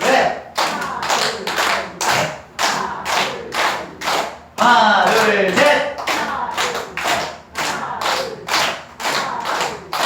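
Hands clap in a steady counted rhythm during a seniors' recreation clapping game, sharp repeated claps in even groups with brief pauses, a burst of crowd cheering in the middle, then the clapping resumes.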